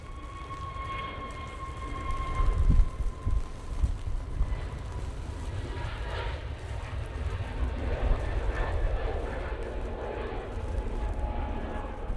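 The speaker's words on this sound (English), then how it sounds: "Easyjet now on the roll." An easyJet Airbus A320neo begins its takeoff roll at Manchester Airport, a distant, moderate engine rumble that swells slightly and holds steady, mixed with wind noise on the microphone.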